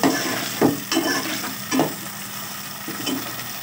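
Cauliflower pieces frying in hot oil in a pan for a chicken cauliflower curry, a steady loud sizzle with several stirring scrapes and clatters spaced through it, close up with no talk.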